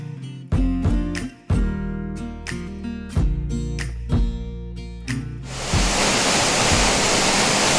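A waterfall's steady, loud roar of rushing water swells in over the last two seconds, after a stretch of plucked, rhythmic music.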